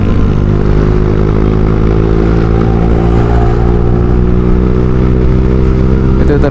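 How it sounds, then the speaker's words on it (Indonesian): A Honda Vario 150 LED motorcycle with a Kenziro aftermarket exhaust runs loud and steady close by, its deep throaty drone rising slowly in pitch as it gains speed throughout, with a little background clatter. "Untuk suara dari knalpot Kenshiro ini keras tapi tidak terlalu bikin pengendara atau orang lain pengang ya guys ya"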